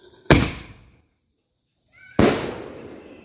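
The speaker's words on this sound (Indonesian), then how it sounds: "Mercon bola pelontar." Two sharp, loud blasts from a ball launcher firecracker about two seconds apart, each cracking close by and decaying into a brief rumbling echo.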